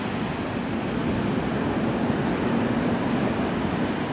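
Ocean surf washes onto Navarre Beach, Florida at sunset, a steady broad roar of breaking waves close by with no pauses and no voices.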